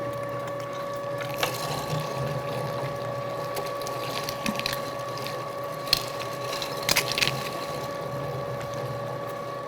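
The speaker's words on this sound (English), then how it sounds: "we're gonna grind the lean first, then grind the fat separate" Meat grinder working through lean beef on its first grind, a steady motor whine with a constant tonal hum, occasional clicks and knocks from the mechanism, close and even in level.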